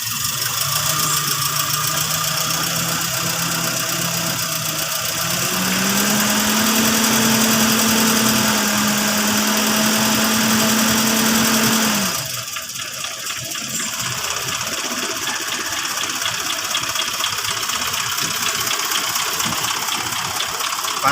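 A car engine is started in neutral and given light throttle, settling into a steady idle with a rising tone partway through. The sound then shifts to a rougher, lower rumble that continues to the end.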